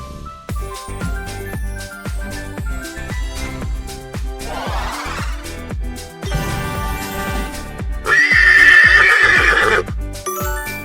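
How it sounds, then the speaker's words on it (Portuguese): A horse neighs loudly in a whinnying burst near the end, part of a children's animal-sound guessing game, with layered musical tones and possible hoof clip-clops throughout. "É um cavalo."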